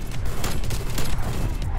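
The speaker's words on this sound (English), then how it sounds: "There it is, artillery strike on the home front" Artillery strike explosions in the video game Black Ops Cold War, a dense, continuous barrage of rumbling blasts and crackling gunfire that stays loud and unbroken throughout, with no talking.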